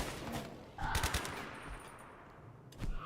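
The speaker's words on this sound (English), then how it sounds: "I guess you're going to get to fire your gun" Game gunfire from Rimworld, a colony sim with mechs and tanks: a burst of rapid machine-gun shots near the one-second mark, then quieter rumbling and a second short volley at the end, over a busy low background.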